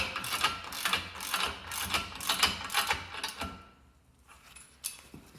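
Ratchet wrench tightening the upper ball joint on a Jeep Wrangler TJ Dana 30 front axle, a series of quick, close clicking pawl strokes in rhythmic bursts for about three and a half seconds, then a pause and a couple of final clicks.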